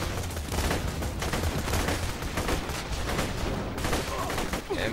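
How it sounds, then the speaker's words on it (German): Constant game gunfire in Borderlands 2, a dense, steady wash of rapid shots and crackling bursts that never lets up, moderately loud with no clear pauses. "Wo wird denn hier geschossen?"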